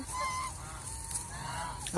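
Farm geese honking repeatedly at close range, several overlapping nasal calls filling the whole stretch.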